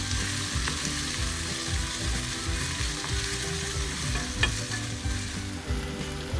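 Tamarind being sautéed in a pan for mint pickle, a steady close sizzle and fry with repeated stirring scrapes throughout, no voices.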